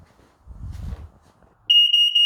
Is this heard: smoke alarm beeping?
yes